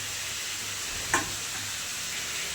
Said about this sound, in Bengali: আমার বরকে রান্না করা শিখাচ্ছি।